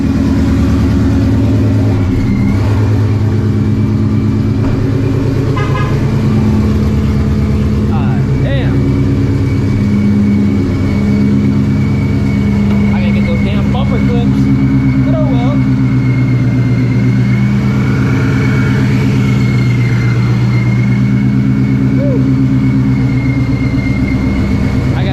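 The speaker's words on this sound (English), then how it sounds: "Just regular driving." A car cruising steadily along a road gives a constant engine hum and drone with tire and road noise, loud and close, while someone talks over it throughout.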